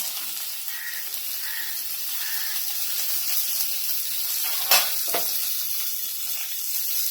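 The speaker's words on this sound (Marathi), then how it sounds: "आता आपण टोमॅटो टाकून घेऊया" Tomatoes drop into onions frying in a pan for kanda poha, raising a steady hissing sizzle with a couple of sharp clinks of a utensil midway.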